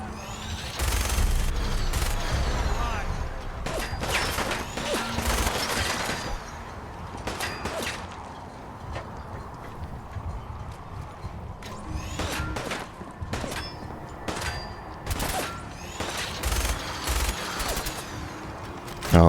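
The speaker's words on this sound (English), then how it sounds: "it's dangerous shooting through the bars here" Bursts of Fallout 4 gunfire with crashing impacts and whooshes, loud volleys clustered early then scattered shots and blasts later, close and punchy, with no talking over them.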